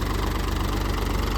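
A Mahindra Yuvo Tech Plus tractor engine runs steadily close by, a continuous low diesel drone with a faint rhythmic knock and no voices over it.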